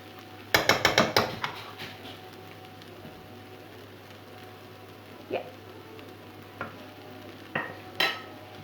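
Ingredients stirred in a frying pan with sriracha mayonnaise: a quick burst of utensil clatter and scraping against the pan at the start, then quieter, sporadic scrapes and taps over a soft background sizzle.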